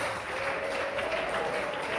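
Church congregation applauding during a Spanish-language worship service, a steady wash of clapping filling the space without pause.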